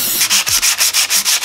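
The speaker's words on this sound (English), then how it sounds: "I may or may not have spent the last 3 hours sanding down this valve cover" Rhythmic back-and-forth sanding of a car engine valve cover, about eight quick strokes of gritty rubbing in a steady beat, close and loud with no talking.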